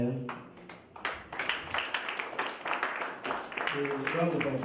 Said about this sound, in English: Let's give Jesus a big round of applause for our choir.